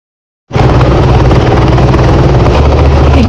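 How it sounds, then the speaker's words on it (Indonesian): A motorcycle engine running outside, a steady loud continuous rumble that starts abruptly and holds without a break. "Kayaknya suara motor deh, Div."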